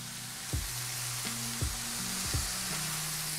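Thin burger patties fry on a griddle with a steady soft sizzle, joined by a few scattered clinks and taps; no voices.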